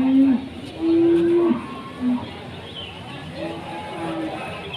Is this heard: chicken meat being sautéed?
no